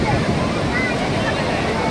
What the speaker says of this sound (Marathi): हे बघा या लाटा उंच उंच उंच आहेत